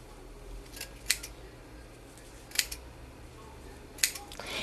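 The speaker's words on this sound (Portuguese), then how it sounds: "E aqui na base, nós vamos cortar as alcinhas, ó. A gente vai aqui cortando." Scissors snipping crochet bag straps at the base of a bag made in knit yarn, three crisp separate clips spaced about a second and a half apart, quiet and close, with no talking.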